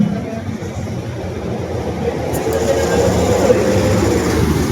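A Honda Beat FI scooter that had failed to start is being troubleshot, and its engine catches and settles into a steady, rising rumble at close range, with a voice talking over it.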